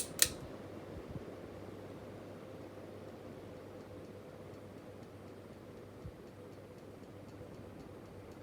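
A 2009 Focus DIY ceiling fan, around 15 years old, runs on low speed with a faint, steady airy whoosh, a small click at the start and a few soft ticks, with no other sounds.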